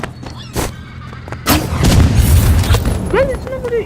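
Gunfire in the Roblox game Rivals: a few loud, sharp booming shots cut through continuous game noise and effects, with a talking voice nearby.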